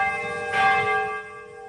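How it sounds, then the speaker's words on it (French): The restored Nagasaki bell, silenced by the 1945 atomic bomb, rings with one clear resonant strike whose rich tones hang and slowly fade. "un son perdu depuis 8 décennies renaît, celui d'une cloche qui en 1945 s'est tue sous le souffle de la bombe atomique"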